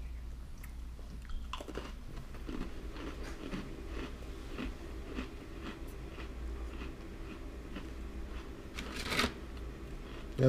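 Crunching bites and chewing of a Hot Cocoa Oreo cookie, close and crisp, with scattered sharp cracks over a steady low background hum.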